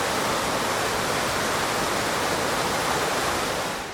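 Rushing creek water on a flooded Great Smoky Mountains trail in May, a loud, dense, unbroken roar heard up close with no voices over it.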